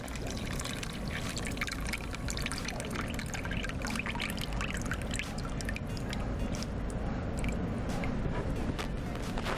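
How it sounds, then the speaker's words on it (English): Steady trickling and splashing of water being poured off a corn silage sample, continuous for several seconds with faint clicks mixed in. "after all the water is poured off"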